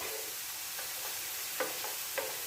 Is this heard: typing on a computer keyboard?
no